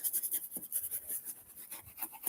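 Soft brush stroking over leather boots during boot care, a quiet, close rhythm of repeated light scratchy strokes with no talking.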